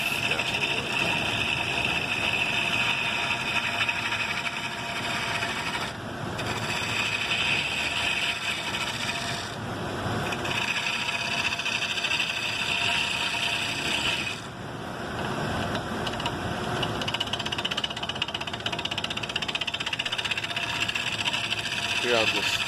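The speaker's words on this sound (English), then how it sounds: "Here I'm just setting the thickness of the rim of the bowl using the bowl gouge." A bowl gouge cutting the rim of a worm-eaten mesquite bowl spinning on a lathe, a steady, loud grinding hum and scraping with a few brief pauses where the cut lifts off.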